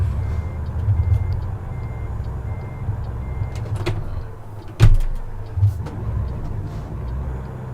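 A truck in American Truck Simulator gives a steady series of evenly spaced reversing beeps over a low diesel engine rumble, with a couple of sharp clunks partway through.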